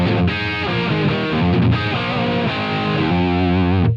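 A down-tuned electric guitar played through a Line 6 Helix with high and low cut filters engaged chugs heavy, distorted riffs loudly and continuously, ending with an abrupt stop.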